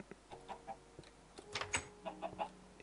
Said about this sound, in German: Ja, und Hühner habe ich schon